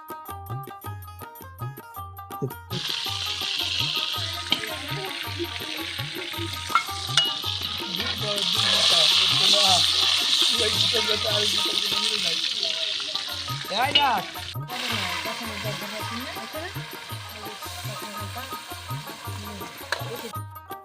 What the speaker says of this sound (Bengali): এই পাতিলে বিভিন্ন ধরনের মশলা দেওয়া হচ্ছে